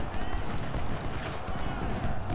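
A horse gallops across a Civil War battlefield in the strategy game Ultimate General: Civil War, a dense, continuous drumming of hooves heard close and loud amid battle noise.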